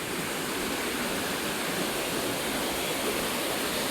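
Clear water rushes in a steady, dense roar near a bamboo wooden bridge in a cool spot in Bali, loud and unbroken with no voices.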